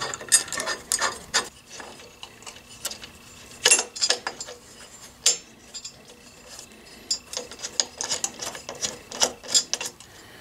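Bolts being started by hand into a crash bar bracket on a Honda Africa Twin CRF1000L motorcycle, with close, irregular metallic clicks, taps and ratcheting bursts separated by quiet pauses.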